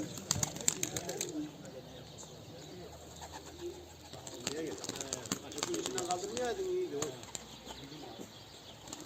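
Pigeons kept by a breeder cooing and fluttering on the ground, with bursts of wing flapping among scattered calls, while people talk nearby throughout.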